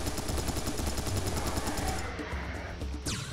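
Rapid automatic gunfire pours out in Serious Sam 3 BFE, a dense, loud stream of shots with no pause, alone without talk.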